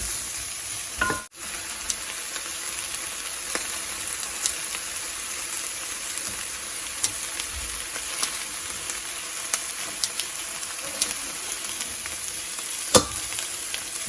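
Fish ball fried rice sizzles and fries steadily in a pan while being stirred, a continuous close hiss with occasional scraping clicks and one brief loud knock early on.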